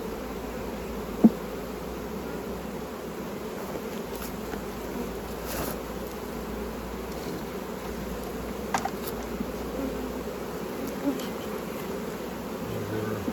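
Honeybees hum steadily throughout while a colony is split for queen production, a soft continuous buzz with a few brief louder passes of single bees flying close.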